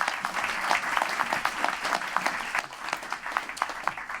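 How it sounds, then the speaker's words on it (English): An audience at an evening arts program claps for a guest, with distinct individual claps audible within a moderate, fairly close round of applause that dips slightly midway and keeps going without talk. "A round of applause for Paul"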